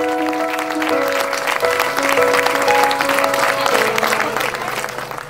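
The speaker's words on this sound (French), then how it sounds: "on lui donne une bonne main d'applaudissement" A crowd applauds steadily for a woman introduced from the Canadian Cancer Society at a Relay for Life event, with music tones sustained underneath the dense clapping.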